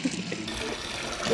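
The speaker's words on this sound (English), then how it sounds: "listen to that lovely sound of water" Water pours steadily into a 20-gallon reef aquarium tank, a continuous close splashing gush with no talk.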